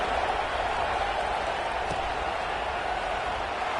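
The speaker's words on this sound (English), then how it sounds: "this crowd is buzzing after that last score" Dense, steady roar of a football stadium crowd at an NCAA game, buzzing after a two-point conversion, a broad wash of cheering voices sustained loudly throughout with no single voice standing out.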